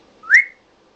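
A pet parrot gives a single short, clear whistle that slides upward in pitch, loud and close, followed by silence.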